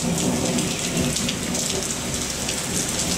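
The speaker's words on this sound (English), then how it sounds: "Yep, thunder." Steady rain pours and drips off a roof during a thunderstorm, with a low rumble of thunder rolling beneath the hiss, continuous and fairly loud with no voices.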